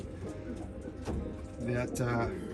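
Racing pigeons coo in low, murmuring bursts that swell louder toward the end, with a person speaking over the birds throughout.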